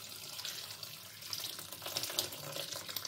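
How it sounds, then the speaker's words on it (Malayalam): Boiling water pours into a bowl of cut cauliflower, a quiet, steady splashing rush of liquid with no one speaking. "ഇതിലേക്ക് നമുക്ക് നല്ല തിളച്ച വെള്ളം ഒഴിച്ചു കൊടുക്കാം."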